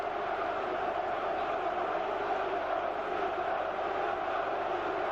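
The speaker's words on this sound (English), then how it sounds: "Norris turns to the crowd and urges them to cheer more and louder" Chesterfield football fans roar at a corner kick in a stadium, a dense continuous crowd cheer with shouting voices blending into a loud, unbroken wall of sound.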